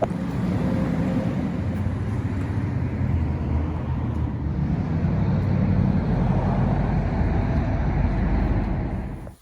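A pressure washer sprays a Prius C with a steady broadband rushing hiss and low rumble, loud and close throughout, fading out at the end.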